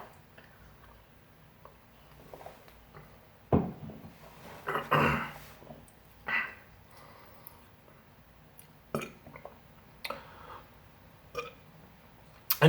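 A man lets out several burps after drinking a carbonated Modelo Chelada beer. The belches are close and loud, spaced irregularly through a quiet room, and one runs long and deep near the middle.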